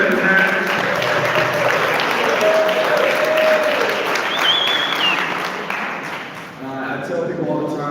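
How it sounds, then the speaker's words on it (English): A room full of people at a community candidates' forum claps loudly for the event's sponsors, a long, sustained burst of applause with crowd voices and a few whoops mixed in, tapering slightly near the end. "Let's give all of our sponsors a round of applause."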